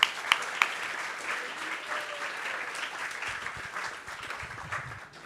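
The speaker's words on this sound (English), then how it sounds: "Let's give another round of applause for the youth." A crowd applauds for young performers at a Vyasa Puja celebration honoring a spiritual teacher, a few sharp claps at the start, then steady dense clapping that carries through and tapers slightly at the end.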